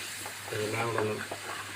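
Clam meat being stirred through a stir-fry in a frying pan, with a soft continuous sizzle and a few scraping strokes close by, steady and moderately quiet.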